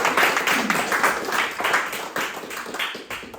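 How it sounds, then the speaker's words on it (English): A church congregation claps hands together during a worship service, a roomy, slightly distant patter of many hands with a loose rhythmic pulse, steady throughout. "Let's clap your hands to the Lord."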